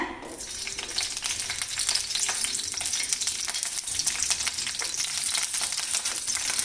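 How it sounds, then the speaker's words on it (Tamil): Hot oil crackles and spits loudly and steadily, a dense close-up sputter of four green chillies frying, spitting from a little water in the oil, that continues without pause. "பச்சை மிளகாய் போட்ட உடனே கொஞ்சம் தண்ணி நின்றுச்சுங்க வெடிக்கிற மாதிரி இருக்கும்"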